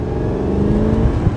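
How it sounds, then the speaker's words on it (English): Deep, steady V8 rumble from a Mercedes-Benz CLK500 with a 7-speed transmission, loud and close, holding a smooth, even drone with a slight swell near the end and no voices. "You hear a nice V8 rumble in this car"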